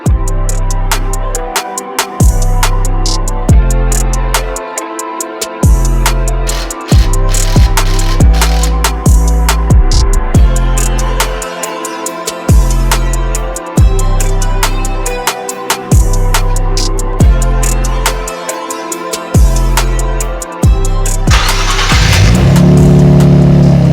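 Nissan 400Z with an upgraded exhaust revved repeatedly, loud, close blips rising and dropping in a steady rhythm with short pauses between, ending in a harsher burst.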